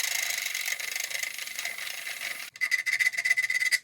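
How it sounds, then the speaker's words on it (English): A drill bores out a hole in the valve cover of a cheap turbo car, a close, steady high-pitched grinding rasp that shifts after a brief break into choppier, pulsing bursts of cutting. "get the rest of that drilled out"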